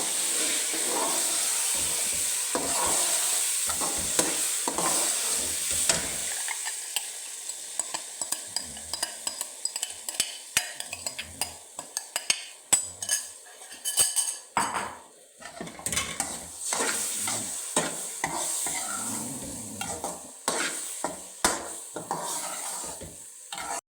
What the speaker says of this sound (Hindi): ये हम डालते जाएंगे और इसको हिलाते जाएंगे।